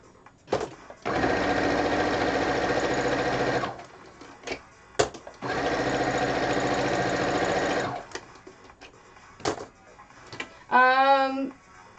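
A sewing machine stitches binding onto a quilt in two long steady runs, close and loud, separated by brief clicks and handling noises; a short voiced sound rises near the end.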